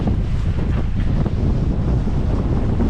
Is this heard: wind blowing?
yes